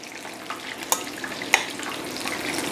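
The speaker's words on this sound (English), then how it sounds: "As long as it's sizzling away like that and bubbling" Steady hissing sizzle of salt cod fritter (buñuelos de bacalao) batter frying in hot oil, with a couple of sharp pops and crackles standing out, close up and with no voices.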